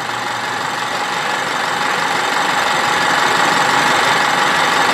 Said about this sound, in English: this is just a motor that's being controlled very rapidly, and you always have some noise off these motors